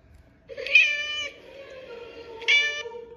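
Two clear cat meows, close and distinct, played as part of a tap-a-sound animal game, the first longer and the second shorter after a brief pause.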